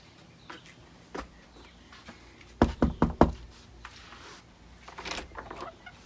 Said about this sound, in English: we're about to knock on the door